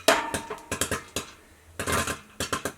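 Popcorn popping in a pot on a wood stove in a tiny house kitchen, heard as a quick series of sharp close pops and rattles, sometimes clustered and sometimes spaced, with a brief lull in the middle.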